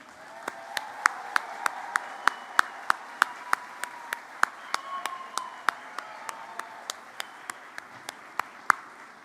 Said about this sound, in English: congratulate our graduates with a huge round of applause